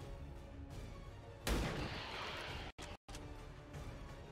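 A sniper rifle shot in XCOM 2 booms out once with a sharp, loud onset and a long rumbling tail over steady game ambience, followed by a brief cut to silence.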